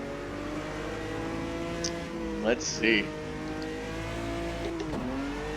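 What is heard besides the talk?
Brazilian stock car racing engine revving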